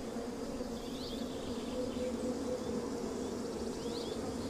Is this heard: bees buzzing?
yes